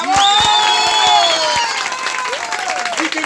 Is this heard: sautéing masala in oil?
no